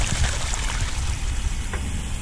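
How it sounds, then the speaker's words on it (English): Water running and trickling through an old Ford radiator being flushed, a steady splashing flow with faint gurgles and drips, fairly close and continuous with no talking. "Giving this old radiator a flush. Run some water through."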